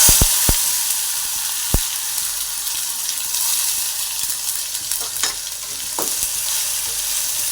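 Chopped small onions and tomato sizzle in hot oil, a steady frying hiss with occasional clinks and scrapes of a spoon stirring the pan.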